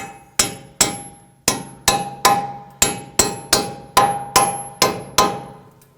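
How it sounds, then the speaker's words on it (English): A hammer taps splined bolts into place during a front CV axle replacement on a 2010-2019 Ford Taurus: about a dozen sharp, ringing metallic strikes in a steady, unhurried rhythm, close and loud, with no talk. "But what you can do is lightly tap those in."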